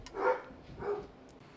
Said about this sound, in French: oh là là, mes chiens s'énervent, là